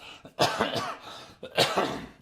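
Two sharp coughs close to the microphone, about a second apart, each a harsh burst with a brief rough tail.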